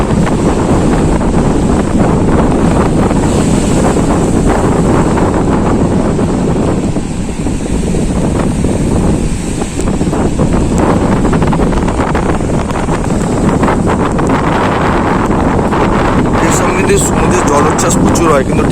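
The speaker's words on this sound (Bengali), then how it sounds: "তো এখন সব জায়গায় বৃষ্টি হচ্ছে নিম্নচাপের চাপের জন্য" Loud, constant wind buffeting the microphone mixes with rough surf and heavy monsoon rain at Shankarpur beach, a dense roar lasting the whole stretch, with a voice speaking over it.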